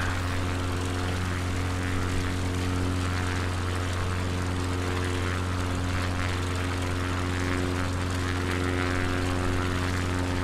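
Propeller airplane engine in Microsoft Flight Simulator 2020, a loud continuous droning hum with steady tonal harmonics, unchanging throughout and with no talk.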